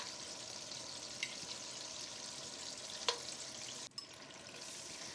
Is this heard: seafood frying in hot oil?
yes